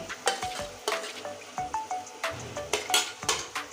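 Onion, capsicum and garlic paste fry in a pan with a soft sizzle beneath repeated sharp scrapes and clinks of a utensil stirring against the metal, falling in an irregular rhythm.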